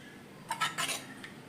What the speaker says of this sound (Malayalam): ഇനി നമുക്ക് പാത്രത്തിലോട്ട് വിളമ്പാം.